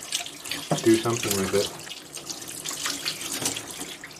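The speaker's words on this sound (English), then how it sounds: "I need to turn the water back on" A kitchen faucet runs steadily into a sink, splashing continuously while a person speaks briefly over it near the start.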